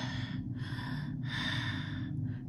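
A voice imitates heavy, rasping breathing, with drawn-out breaths repeating in a slow rhythm over a low rumble.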